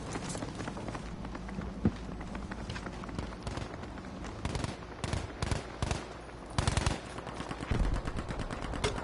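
Dense Battlefield 5 combat during a paratrooper landing: continuous rattling machine-gun fire and scattered gunshots, punctuated by several heavy explosive bursts from an airstrike, loud and busy throughout with no talk.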